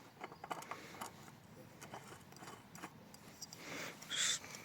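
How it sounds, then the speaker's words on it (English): A new oil filter is screwed onto a forged Subaru EJ257 engine during a Subaru Impreza STi Prodrive build, giving faint close creaks and light mechanical scrapes, with a brief louder squeak near the end. "but a new oil filter going on."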